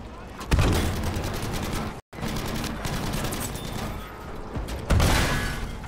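A vehicle is repaired in Battlefield V with dense, rapid mechanical ratcheting and clicking that runs continuously. A sharp brief dropout occurs partway through, and louder clanking bursts land near the beginning and end.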